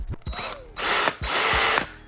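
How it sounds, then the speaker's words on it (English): A power drill bores holes through metal parts during an electric dirt bike build, running in two loud, steady bursts separated by short pauses, with no talking. "I'm going to have to make new ones with drill bits"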